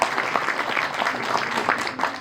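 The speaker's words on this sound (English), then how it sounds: "can we have a huge round of applause?" Lively applause from an audience at a corporate interns' gathering, dense, even clapping throughout with no clear speech.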